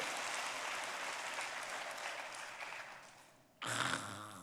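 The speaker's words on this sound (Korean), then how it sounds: "유권자들이 박수를 하잖아." A congregation in a church service claps steadily for several seconds, a broad even patter of many hands, before it cuts off and a voice starts speaking.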